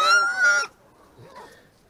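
Hungry farm birds give loud honks, two close calls in quick succession, then a fainter squawk, as they complain about wanting food.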